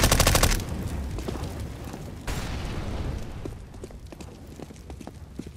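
Rapid automatic gunfire from a gun in a tactical shooter game, a loud dense burst at the start, then repeated shots and scattered bangs through a busy game mix.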